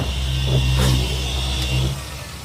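A turbocharged automatic 4-wheel-drive K-van engine revs up close by, a strong low-pitched roar that swells for about two seconds and then eases off, with no talking.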